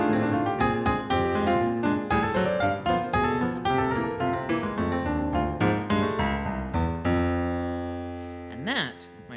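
Solo piano racing through a dense, fast passage, percussive clustered chords and runs that end on a sustained ringing chord with a quick high flourish.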